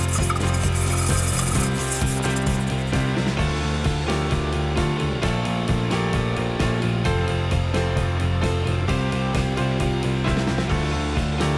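Sponges and brushes scrub a rusty cast iron camp oven soaked in cola, giving a continuous loud, gritty rubbing and scraping in quick back-and-forth strokes, close up with no voices.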